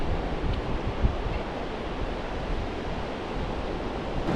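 Waves wash in on the beach at Lucky Bay, Esperance, on a windy morning, a soft, steady broadband roar of surf and wind with no talk.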